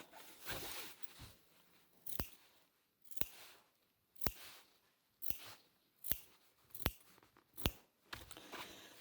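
Scissors snip a concave fabric seam allowance in a quiet room, about a dozen crisp, separate cuts at an uneven rhythm, close and distinct with soft rustling of cloth between them.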